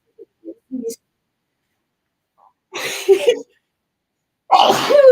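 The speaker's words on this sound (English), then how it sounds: "I'm going to sneeze, too." Two sneezes burst out a couple of seconds apart after a few small faint sounds, loud and close.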